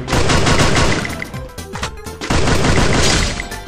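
Rapid automatic weapon fire in the battle royale game Free Fire, loud and close, with two long dense bursts separated by a brief lull of scattered shots.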